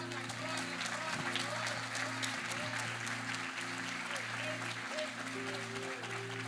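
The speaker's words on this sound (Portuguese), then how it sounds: "Você pode aplaudir o Senhor por isso?" A church congregation claps together under an organ or keyboard chord, steady mid-distance applause that fills the whole stretch with a few voices mixed in.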